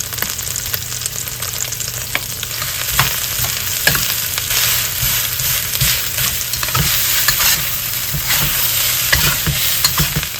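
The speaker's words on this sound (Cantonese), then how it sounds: "跟住倒飯，" Rice stir-fried with beef and garlic in a wok, a steady loud sizzle with scraping spatula strokes and occasional clanks running throughout, no voices.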